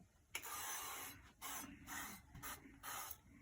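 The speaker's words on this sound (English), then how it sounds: "You gotta spray your pan so it don't stick" Cooking spray hissing onto a baking pan for pumpkin bread, four separate close bursts with short pauses between them, no talking.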